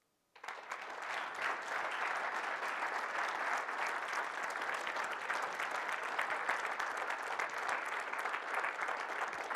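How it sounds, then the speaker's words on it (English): Applause from a symposium audience after a keynote talk starts abruptly and holds as a broad, even roar of many hands, steady and fairly distant throughout. "thank you for that kind applause"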